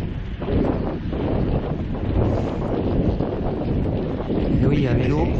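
Strong wind gusts roar against a microphone while riding a mountain bike fitted with a SuperWheel 650, a steady buffeting rush that swells toward the end.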